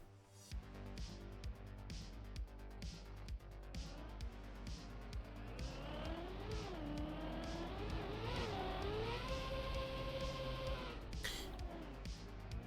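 A car engine whines and revs steadily in a racing video game, its pitch sweeping up and down as the car speeds and slows, heard alone and loud throughout with no talk.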